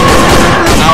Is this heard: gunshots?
yes